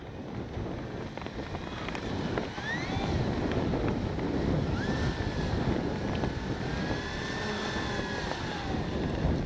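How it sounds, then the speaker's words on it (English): Strong gusting wind buffets the microphone at an outdoor flying field while an FMS PC-21 Pilatus RC plane's electric motor whines and shifts pitch overhead, with a rough, roaring wind rumble throughout. "This wind is nuts."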